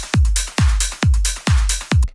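The same dance drum loop plays with parallel glue compression, steady four-on-the-floor kicks around twice per second, hats and snares tucked in between, loud, dense and slightly more even.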